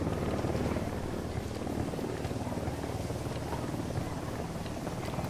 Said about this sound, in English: Also, bad helicopter. Gotta watch out for that.